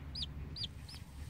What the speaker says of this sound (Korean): 3일밖에 안 된 꼬꼬야